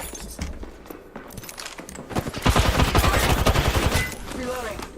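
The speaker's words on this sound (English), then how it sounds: "I'm getting shot at" Rapid bursts of gunfire crackle through a shooter video game match, a dense, loud volley of shots in the middle with scattered quieter pops around it.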